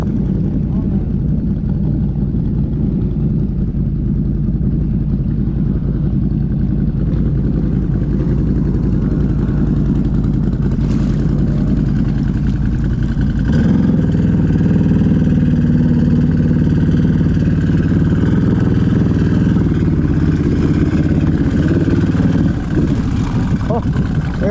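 A Renegade ATV engine runs steadily with its exhaust off, a loud, rough, continuous drone that grows louder and fuller about halfway through, with people talking over it.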